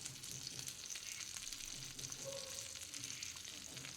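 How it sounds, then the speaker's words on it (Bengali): Fish fries in a pan with a faint, steady sizzle and soft crackling spatter throughout, heard at low volume. "মাছ ভাজা বসিয়ে দিয়েছি"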